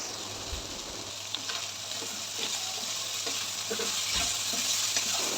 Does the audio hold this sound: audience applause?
no